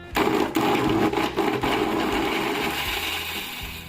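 A mixer grinder grinds grated coconut, whirring steadily for a few seconds, a loud continuous motor drone with some rattling at the start.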